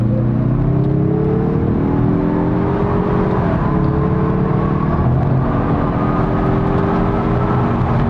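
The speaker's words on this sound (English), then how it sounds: "we'll give you a quick acceleration along with some freeway noise" A 2023 Mazda3 Hatchback Turbo accelerating on a freeway: a steady engine drone rises in pitch through the gears, with a brief dip around the shift, over constant road and tire roar, loud and continuous with no talking.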